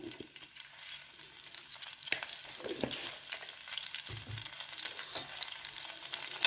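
Amla pickle mixture with salt and turmeric being stirred in a pan, soft sizzling with scraping spoon strokes, quiet and close, no voices.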